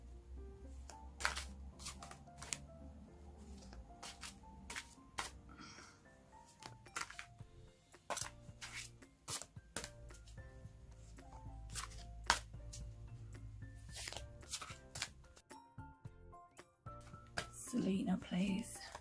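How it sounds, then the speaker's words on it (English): Tarot cards are shuffled in bursts of crisp riffling and slapping against a table, close and fairly quiet. A person speaks at intervals between the shuffles. "I'm trying to give these a good shuffle."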